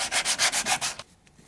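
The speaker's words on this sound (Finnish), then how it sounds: "Hion aluetta nyt, kun siihen on vielä helppo pääsy" A wooden boat hull joint is hand-sanded in about six quick, even back-and-forth rasping strokes, close and loud, then the rubbing stops into quiet.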